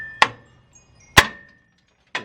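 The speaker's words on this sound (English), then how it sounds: "What happens if I hit it with a hammer?" Three sharp metallic hammer strikes on the frame of a K30 crew cab truck, each ringing briefly before fading, spaced about a second apart, close and loud.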